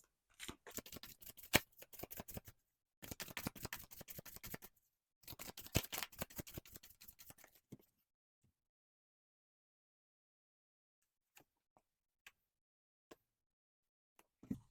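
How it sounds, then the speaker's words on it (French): Tarot cards shuffled for a reading, with quick, crisp bursts of riffling in three runs, followed by silence broken by a few isolated card taps. "On continue avec le troisième tirage de tarot."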